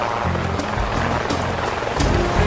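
Helicopter rotor thumping steadily nearby, used to sling bundles out of a remote marijuana garden, a continuous low chopping drone with no talk.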